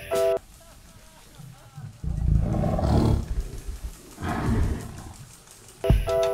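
A tiger in Jurassic World Evolution 2 gives two loud, rumbling roars, each a couple of seconds long with a short gap between them, with short electronic game beeps at the start and end.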